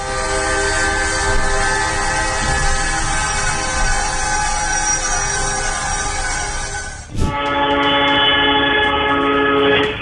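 A train rumbles past close by, its loud horn sounding in sustained tones throughout, with a sharp change in pitch and texture partway as it passes.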